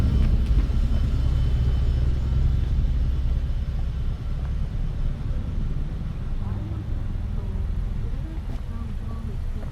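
Low, continuous engine rumble from cars lined up in traffic on Midvale Road in St. Helier, Jersey, a steady idling drone heard from the street, fading slightly toward the end.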